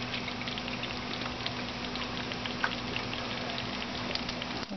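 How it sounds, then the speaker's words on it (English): Milk streams into a pot of potato soup, a steady bubbling, pattering liquid sound with faint crackles, close and continuous, no talking. "And now we're gonna add the milk."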